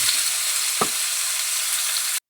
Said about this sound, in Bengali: গরম হয়ে গেছে, আমি পনিরগুলো ভেজে নেব।